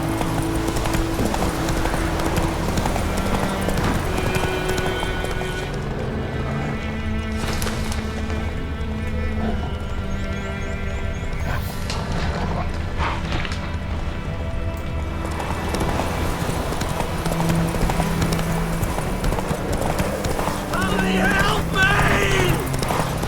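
Horse galloping in The Witcher 3, a steady rapid clip-clop of hooves running continuously with a brief whinny, over in-game music and ambience.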